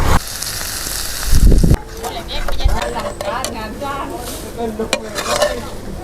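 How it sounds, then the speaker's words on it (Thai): Pork stir-fries in a hot pan, sizzling loudly while a utensil scrapes and clanks against the metal in short bursts, and someone speaks over the cooking. "ผัดหมูผัดหมูให้หอมให้สุกก่อน"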